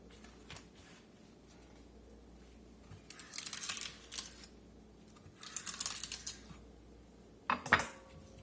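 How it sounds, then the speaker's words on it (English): A knife cuts stems out of collard greens on a board in a few scraping, crinkly bursts of leaf handling, close by, separated by quiet gaps with no talking. "I don't like the stem in mine, so I'm cutting them out"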